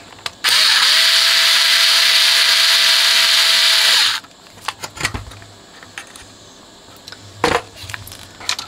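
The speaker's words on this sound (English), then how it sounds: "I just need to unscrew this plate off here" A power driver whirs loudly and steadily for several seconds while unscrewing a plate on a 1979 Technics RS-M17 tape deck, then stops, leaving scattered metallic clicks and handling knocks close by.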